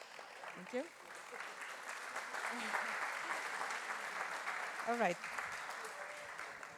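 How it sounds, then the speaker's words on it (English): An audience at a talk on disinformation applauds the speakers. The clapping is a steady round of moderate loudness that lasts the whole time, with someone briefly speaking over it near the start and again near the end. "So I think our speakers deserve a small round of applause."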